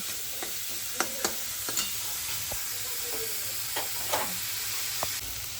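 Sliced onion frying in a pan until browned, giving a low steady sizzle with several sharp scrapes and clinks of a spatula stirring, close up and with no voices.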